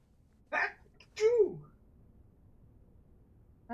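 A single sneeze bursts out during a tense Blue Prince playthrough, sharp and close, with a short breathy onset followed by a louder voiced burst, then quiet room tone and a faint sound starting at the very end.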